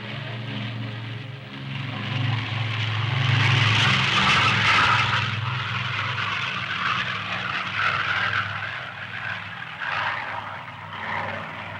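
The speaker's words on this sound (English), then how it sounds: "Finally, time for takeoff." A propeller aircraft, a 1950s military transport in the story, roars through a steady engine drone that swells to its loudest midway and then holds at a sustained level, with no talk.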